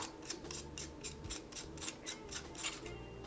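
Repeated small ratcheting rasps as the telescopic tube of an Eleaf iJust vape kit is unscrewed, close and fairly quiet, a steady series of gritty threaded clicks with no talking.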